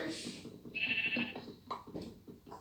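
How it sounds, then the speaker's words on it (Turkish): A few sheep bleats in quick succession in a block-building video game, wavering and fairly close, with some quieter rustling between them. "koyunlarımız meyliyor."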